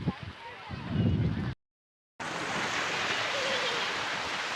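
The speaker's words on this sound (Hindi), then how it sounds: "अरब सागर के किनारे समुद्र से आ रही हैं ठंडी ठंडी हवाएं" Steady surf and blustery wind sound on the Arabian Sea shore at Somnath, with wind buffeting the microphone. A brief dropout to silence interrupts the sound, and the waves and wind then resume as a constant roar.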